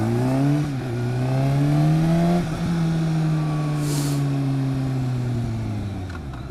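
A 2013 Kawasaki ZX6R motorcycle engine revs up in a rising whine, drops sharply twice as gears change, then climbs again in a loud, smooth, close-up pull.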